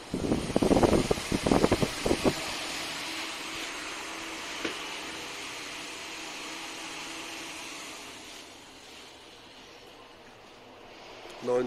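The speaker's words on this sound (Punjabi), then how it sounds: "Cobra ਕੋਬਰਾ ਦਾ ਪੱਖਾ" A Cobra 8-inch truck cooling fan, a 12 V or 24 V unit for small vehicles, whirs with a steady airy drone after some brief handling clatter at the start, winding down slightly near the end.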